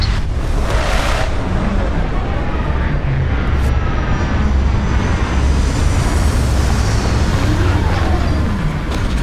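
A spaceship landing in the video game Starfield, a loud continuous engine roar with rumbling low thrust that holds steady throughout.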